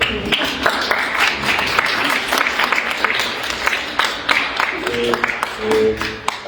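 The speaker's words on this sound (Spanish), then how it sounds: "Le damos un aplauso, por favor." Applause from an audience at a live presentation event, a steady wash of clapping running throughout at moderate loudness, with some voices mixed in near the end.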